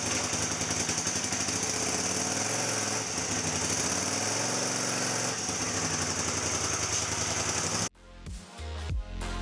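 A Honda CB750 cafe racer motorcycle rides up a driveway with a busy, rattling engine drone at steady revs, dipping briefly midway, before it cuts off sharply near the end and leaves quieter knocks.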